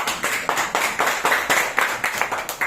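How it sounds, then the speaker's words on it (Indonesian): An audience claps hands together in agreement, a rhythmic run of about a dozen sharp, evenly spaced claps close by, moderately loud and without talk over it. "ayo kan tepuk tangan kalau setuju"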